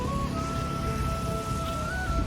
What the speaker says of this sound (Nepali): सिमसिम पानी पर्यो